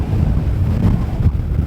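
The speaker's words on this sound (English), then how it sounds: "You can probably hear the wind." Strong wind buffeting a microphone on an exposed mountain ridge on the Isle of Arran, a loud, steady low rumble with gusty surges throughout and no voices.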